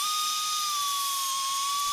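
A Dremel rotary tool spins against the metal end pieces of a slide rule body, giving a steady, high, thin whine that holds nearly level for two seconds with no other sound.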